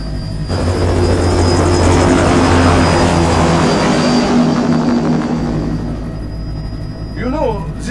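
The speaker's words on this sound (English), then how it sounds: "Commencing takeoff in semi-auto mode" An aircraft taking off in the video game Metal Gear Rising: Revengeance, a loud sustained engine roar with propeller-like drone that swells and then eases, with a brief voice near the end.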